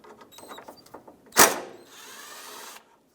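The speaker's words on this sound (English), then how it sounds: "Now let's remove the two 10 millimeter bolts that hold on this radiator support on both sides" A power tool spins briefly on a 10 mm radiator support bolt of a 2012–2020 Ford Focus, with a sharp loud burst followed by a steadier whirring run of about a second, preceded by light clicks and handling noise.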